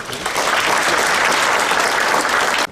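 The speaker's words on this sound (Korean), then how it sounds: "큰 박수로 환영해 주시기 바랍니다." Steady, dense applause from a lecture audience welcoming a former government minister to a guest talk on securing state funding, filling the room evenly and loudly before cutting off abruptly at the end.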